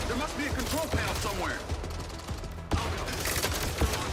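Rapid bursts of gunfire from a video game crackle close and loud, with shots scattered in quick runs while a player mutters over them.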